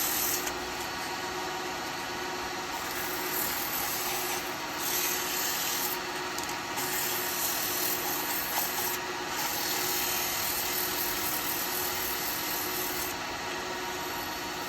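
Steady sandpaper rubbing against spinning yew wood on a lathe, a continuous close-up rasping hiss with a faint motor hum beneath and a few brief lulls.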